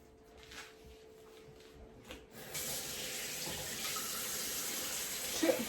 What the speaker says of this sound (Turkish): Parmağımı bunu kaç kere yıkadım ben.